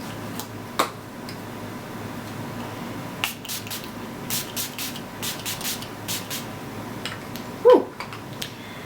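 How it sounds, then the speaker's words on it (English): Several short, sharp hissing bursts of Milani Make It Last setting spray are misted onto a face, clustered in quick succession against a quiet room, with a faint rustle near the end. "I'm gonna go ahead and set my face with the Milani Make It Last setting spray"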